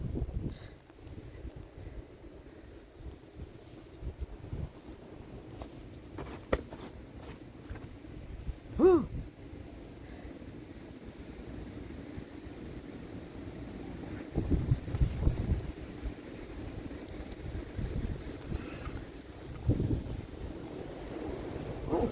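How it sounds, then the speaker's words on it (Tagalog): Strong winter storm wind roars in Montreal during heavy snowfall, a low rumbling rush with gusts swelling and fading throughout, and a voice briefly exclaims. "Umuugong pa. Talaga naman sa lakas ng hangin na kasama."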